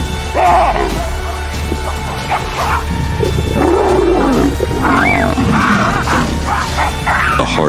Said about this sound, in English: Then suddenly the lion rushed out like lightning.